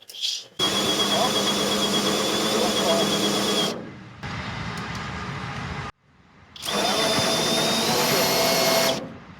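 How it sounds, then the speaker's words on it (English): A loud cordless drill cranking trailer landing gear whines steadily in long runs, stopping briefly between bursts, with a strained grinding hum under it. "you have to learn how to hang on to the drill, bracing it with your body and your hands"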